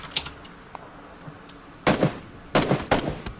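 Gunfire in PUBG (Battlegrounds): a few faint distant shots early on, then two loud rapid bursts of automatic fire close by near the end, with quiet gaps between them.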